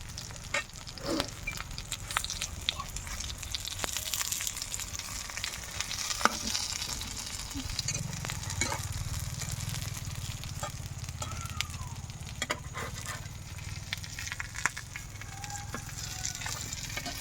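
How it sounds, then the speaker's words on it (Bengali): Pieces of snakehead fish fry in a pan with a steady, close sizzle and crackle throughout, and a deeper bubbling rush swells partway through. Occasional clinks and scrapes of stirring sound over the frying, and no one speaks. "আমার বাকি মাছগুলো ভাজা শেষ এখন আমি মাছ নামিয়ে নেব"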